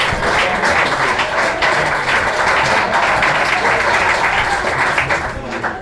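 Steady applause from a crowd at a sheriff's press conference announcing a fentanyl trafficking bust, dense and continuous clapping that fills the whole stretch, fading slightly at the end.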